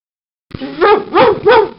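A prize-winning dog in a cartoon toy hospital waiting room lets out three quick, loud, close barks in a steady rhythm after a short silence.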